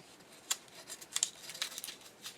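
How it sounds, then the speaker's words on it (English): Scissors cut across paper for a handmade tag envelope, making a series of crisp, close snips, some single and some in quick pairs, spread irregularly over a couple of seconds. "And at that point, I will cut it across."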